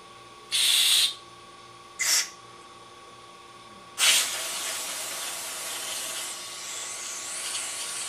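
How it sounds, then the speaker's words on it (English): Carburetor cleaner sprayed in short hissing bursts into a carburetor during cleaning: two quick spurts, then a longer sustained spray that fades to a lingering hiss, close and fairly loud, with no talking. "spray your carburetor cleaner back in it"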